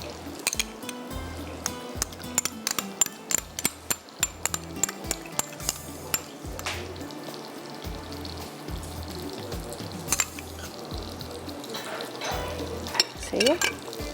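Chicken nuggets fry in hot oil with a steady bubbling crackle, broken by occasional clinks and sharper splashes, while a soft voice murmurs in the background.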